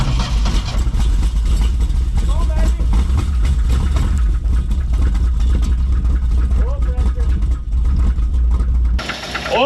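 A rough, steady engine idle from an old Ford F100 pickup truck, abandoned 25+ years, rumbles low and continuous for the whole stretch, with faint chirps and a brief drop near the end.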